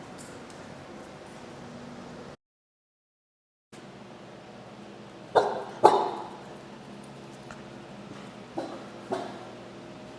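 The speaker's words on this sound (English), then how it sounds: "You can see that she's barking, and I can tell that she's barking at that little pretend dog on top of the microwave" A young female dog barks at a toy dog on top of a microwave indoors, giving a few sharp yips and barks in two short bursts against a quiet background with a brief dropout.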